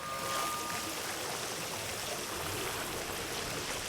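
Steady stream of flowing water in the Jurassic World Evolution park builder, a continuous trickling babble running alone at moderate volume throughout.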